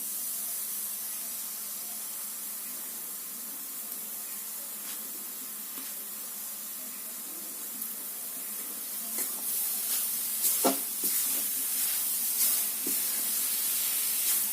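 Grated coconut stirred into melted jaggery over low heat gives a soft, continuous hiss with light scraping and stirring clatters growing busier toward the end.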